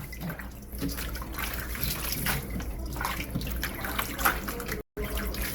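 Running water rinses salt from cabbage for kimchi, a continuous splashing and trickling under a sink tap with small irregular splashes, close by, briefly cut out near the end.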